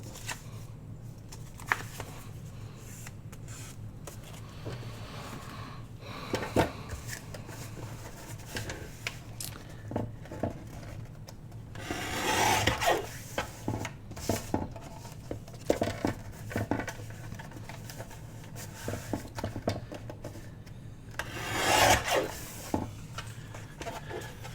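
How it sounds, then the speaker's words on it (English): Paper being trimmed for handmade journal envelopes, heard as scattered light rustles and crisp cuts with a few louder bursts of crinkling, close up and with no talking. "I'll just trim off both sides if I need to"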